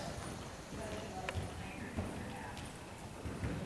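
A horse's hooves thud on the footing of a dressage arena as it comes down from canter to halt. Hoofbeats are muffled, close and irregular, with a voice speaking in the background.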